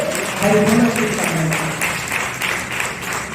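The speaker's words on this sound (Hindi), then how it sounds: "मैं चाहता हूं कि पूरा सदन एक बार जोरदार तालियों से" Loud applause fills a hall at a Hindi literary society's anniversary award ceremony, a dense steady wash of clapping from the whole audience lasting throughout.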